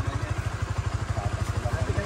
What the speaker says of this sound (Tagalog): Ay, gagamitin mo na itong motor?